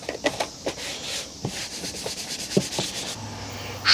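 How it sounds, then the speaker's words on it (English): A rag soaked in WD-40 is rubbed over sticky tape residue, giving soft scrubbing strokes in uneven bursts, close and fairly loud with no talking. "Just rubbing with the WD-40 on the rag"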